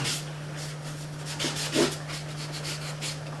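Dry brush or cloth rubbing in short vertical strokes across a drying painting, a soft repeated scratchy hiss over a steady low hum, close and quiet with no talk.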